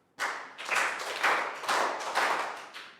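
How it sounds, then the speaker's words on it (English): A class of young children claps five times in a row, each clap a sharp, bright burst close by, spaced roughly half a second apart, with no talking. "5 claps."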